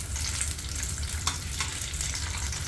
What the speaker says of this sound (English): she put the sausages in there and she's frying it